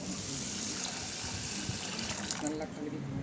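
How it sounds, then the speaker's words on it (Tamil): Raw ponni rice is washed in water, with a steady rush from a running kitchen tap and the slosh and trickle of water among the grains in a vessel, continuous and fairly close. "இதை கழுவிட்டு ஊற வச்சுக்கலாம்."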